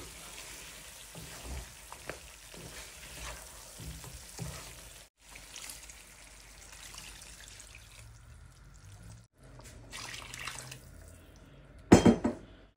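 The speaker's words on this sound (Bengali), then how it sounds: "হাঁসের মাংসটা আমি অনেকক্ষণই কষিয়ে নিয়েছি, এখন আমি পানি দিয়ে দিব।" Duck meat that has been slowly fried in a pan sizzles as water is poured in, with a sudden louder burst of hiss and clatter near the end; no one talks.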